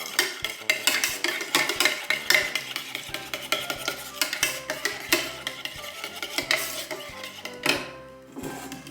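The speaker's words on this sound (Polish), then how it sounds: "wbijam jajko. Zamieszam sobie to." A cracked egg is stirred into sour cream in a small pot with a steady, rapid scrape and clatter of a utensil against the pot for keto gingerbread, close and continuous before trailing off.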